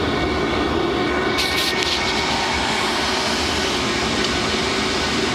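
A Chinese diesel parking heater runs at full output, its blower producing a loud, steady, close roar of warm air with a constant hum and no pauses or talk.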